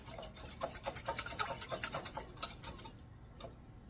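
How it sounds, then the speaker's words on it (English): Pudding mix whisked briskly in a bowl makes a fast run of close, rhythmic clicking and scraping strokes that stop near the end. "you want to keep whisking because you want to be sure it's all whisked really, really, really, really well"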